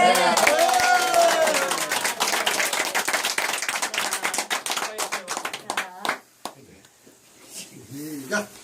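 A voice speaks briefly before a round of clapping and applause builds, then fades into scattered claps as voices return.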